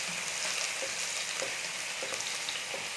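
Onion with ginger sizzling steadily in a hot pan for chicken noodles, a loud, even crackle that runs unbroken and close, with no talking.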